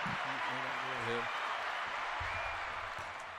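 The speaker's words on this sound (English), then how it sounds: "big round of applause for Shore United at the table" Steady audience applause and crowd noise for the guests Shore United as they arrive at the table, a dense wash of clapping throughout with voices talking over it.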